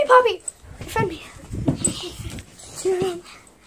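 A dog whimpers and yips in short, high cries over busy sounds of a Xenomorph attack video game, with a voice talking in between.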